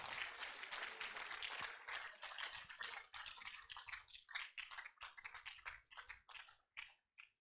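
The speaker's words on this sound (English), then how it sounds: "Can we clap as if we understood what he said?" Audience applause after a university lecture, starting as a close, dense clatter of claps and thinning into sparse, separate claps before fading out.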